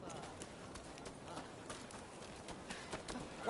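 Horse hooves clip-clop steadily at a running pace in the video game Rise of Ronin, a busy stream of hoof beats mixed with game sound and voices.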